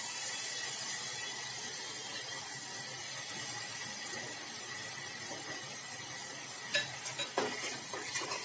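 Onion, tomato and green garlic gravy sizzles in oil over a low flame as it is stirred, a steady close hiss that runs throughout, with a few louder clinks and scrapes near the end.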